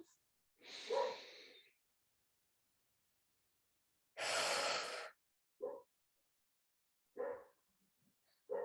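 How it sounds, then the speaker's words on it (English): A person takes a deep audible breath during a guided EFT tapping session, with long breathy inhales and exhales separated by silence and followed by a few shorter breaths, close and clear. "Deep breath in."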